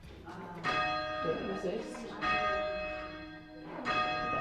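Church bells rung by hand in Alderney peal in repeated bright, ringing strikes with long sustained tones, fairly close, while voices talk over them.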